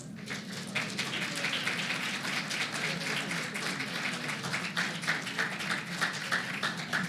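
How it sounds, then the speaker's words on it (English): A crowd applauds steadily, a dense, even patter of many hands clapping, fairly distant and sustained without letting up, as the United States Secretary of Labor, Martin J. Walsh, is welcomed. "it sounds like an exciting crowd"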